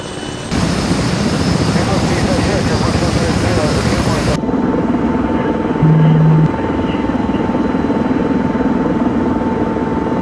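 Military helicopter flying in over valleys in the video game Arma 3, a loud steady rotor and engine drone that drops to a quieter, more distant hum midway, with someone talking over it.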